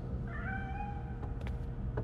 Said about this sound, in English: How did a cat get past our security protocols?